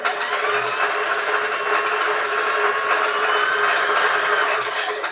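A Singer Model 44S sewing machine winding a bobbin runs steadily at high speed in a continuous whirring drone, close and fairly loud, with no talking.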